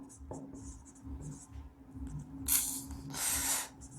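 A pen scratches across paper in short, close strokes during a Class 8 maths lesson, with a couple of louder scribbling bursts near the end, over a low steady hum.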